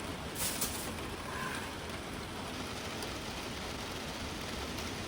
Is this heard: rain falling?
yes